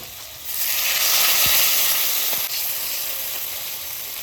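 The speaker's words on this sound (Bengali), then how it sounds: "এবার আমার আলু ভাজা হয়ে গেছে এবার আমি জল দিয়ে দেবো" Water poured onto potatoes frying in a pan gives a loud, broad hiss of steam and sizzle that rises sharply, then eases slightly but keeps going steadily.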